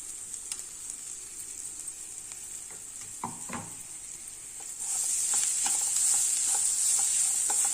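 Capsicum sautéing in a pan gives a steady sizzle with a few spoon taps, and the hiss grows louder and brighter partway through.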